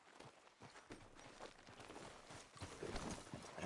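Horse hooves clip-clop at a walking pace in Red Dead Redemption 2, a soft, steady series of thuds with faint background ambience and no speech.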